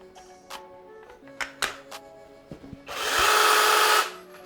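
An ORBLON mini chainsaw on a DeWALT 20V Max battery starts after a few light clicks and handling knocks, then spins with a loud, close motor whirr for about a second before stopping.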